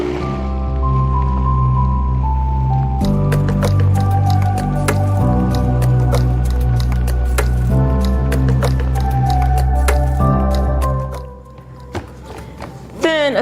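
A kitchen blender runs on its low setting with a steady droning motor hum for about eleven seconds before switching off, with wet sloshing from the contents.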